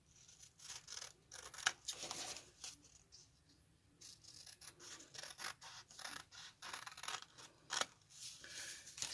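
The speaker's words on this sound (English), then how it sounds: "Get a big old pair of sharp scissors." Sharp scissors snip through card paper, crisp close cuts and rustling strokes coming in irregular bursts with short pauses between, quiet and without talk.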